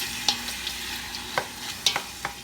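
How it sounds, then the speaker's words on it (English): Ground beef browns in a pot with the lid off for homemade chili, a steady sizzle broken by several sharp scraping clacks of a spoon stirring against the pot, close and with no talking. "you're going to brown the meat"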